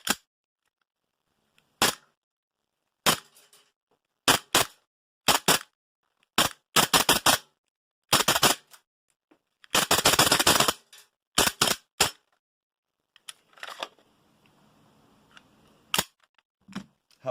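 A heavy airsoft Glock 34 pistol fires BBs in roughly a dozen sharp, separate cracks spread unevenly across the stretch, with one short rapid burst in the middle and near silence between shots.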